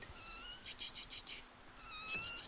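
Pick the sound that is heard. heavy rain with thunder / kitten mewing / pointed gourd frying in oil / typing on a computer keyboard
kitten mewing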